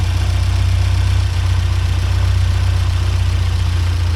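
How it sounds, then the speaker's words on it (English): 1979 Porsche 924 idling with a fast, fine clatter from a rubber washer rubbing on a wire, riding steadily on top of the low, even engine hum throughout. "you can hear that little clattering down there. That's from that wire, that rubber, that washer rubbing on it."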